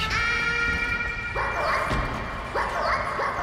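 Dogs bark and yip in a Resident Evil 2 Remake mod, several sharp barks arriving in quick bursts over a droning game ambience, fairly close and loud.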